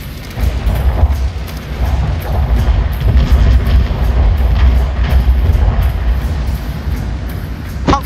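Multi-shot rocket volleys fire in a Shogun 2 battle between Joseon and Ming China, a dense, continuous rumble of overlapping booms and whooshes rolling loudly throughout.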